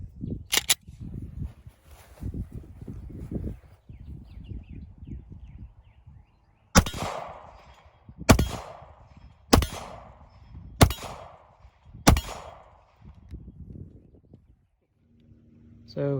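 A PSA Dagger 9 pistol fires five rounds at an outdoor range. The sharp, loud shots come evenly spaced about a second apart, with quiet talking before them.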